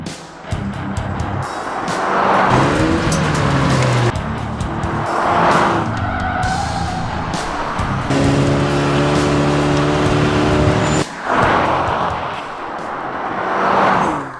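A BMW X2 M35i sports SUV accelerates hard through several gear changes, its engine surging loudly and close with brief dips between pulls and tire noise throughout, no speech.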